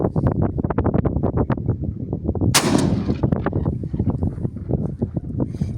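A Breda Echo shotgun fires a single sharp, loud shot outdoors amid strong wind, the blast cutting through heavy, constant rumbling wind buffeting the microphone before and after.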